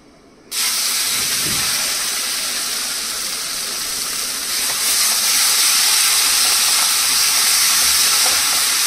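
Steady, loud sizzling of spices frying in a hot pan for tinda masala, a continuous hiss that grows slightly louder partway through, with no voices.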